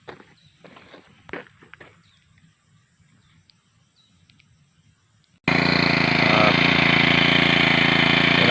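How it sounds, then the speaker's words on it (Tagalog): A Honda 4-stroke grass cutter engine warms up after going unused through the rainy season. Its loud, steady running starts abruptly at mid-clip, after quiet outdoor sounds and light footsteps. "4-stroke grass cutter."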